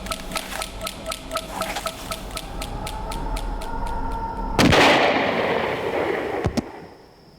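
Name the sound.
gunshots in a dramatized royal massacre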